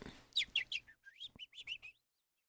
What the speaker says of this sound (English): The little birds chirping.